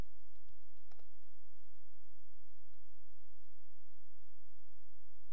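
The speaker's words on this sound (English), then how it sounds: "we have to again enter our password" Password keystrokes on a computer keyboard, a handful of sparse, close, light clicks at irregular intervals over a quiet steady hum.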